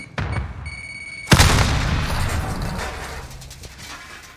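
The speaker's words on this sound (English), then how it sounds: "Grenade out!" A grenade explosion in Call of Duty Modern Warfare Demolition mode, a single loud boom that bursts in after a short lull and rumbles off over several seconds amid faint gunfire and battlefield noise.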